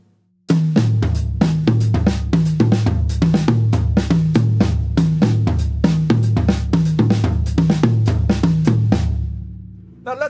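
A drum kit plays a five-against-seven polyrhythm, with two hands layering steady interlocking hits in a dense, loud, continuous pattern that runs for about nine seconds, close and without talk.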